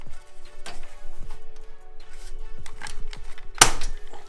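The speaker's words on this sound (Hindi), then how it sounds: "ये अलग आपको क्लिक आवाज मिल जाएगी उसके" A PC CPU cooler fan cable connector is unplugged during cleaning, with small plastic clicks and handling taps scattered throughout and one sharper, louder click near the end, heard close up without talk.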